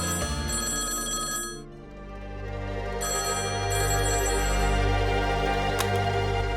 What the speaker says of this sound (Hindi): ये फोन 2 बार बज के बंद हो जाता है